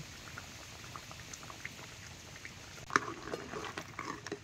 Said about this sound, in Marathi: आता ही पोटन नांगी या रश्यात चांगली शिजवून घ्यायची